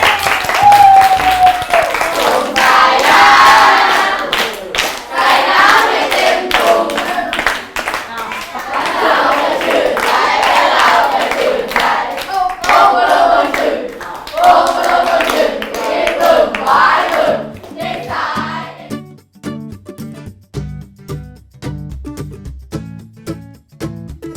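Classroom students at Ban Wang Mai Daeng school clap loudly together for about twenty seconds to welcome a group, then it breaks into scattered, rhythmic single claps as the room quiets.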